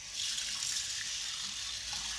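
Water pours steadily over two spoons of urad dal and other lentils set to soak, a continuous close gushing splash lasting a couple of seconds.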